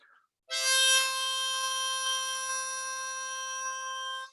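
Harmonica reeds blown into a steady, buzzy chord that holds evenly for about four seconds, close and clear, with no talking.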